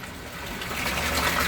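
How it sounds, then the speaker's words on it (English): Water pours in steadily to refill drained aquaponic fish tanks, a loud, close, continuous rush that grows slightly stronger toward the end. No one speaks. "the way to do it is drain both tanks and then refill"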